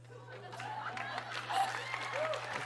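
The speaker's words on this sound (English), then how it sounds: "People clapping in the back." An audience claps toward the back of a game show studio, a steady low patter of applause mixed with faint crowd murmur.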